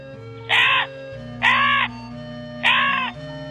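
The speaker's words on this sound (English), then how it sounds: "Once upon a time, there was a crow." A crow gives three loud, harsh caws, evenly spaced and close, over a low background hum.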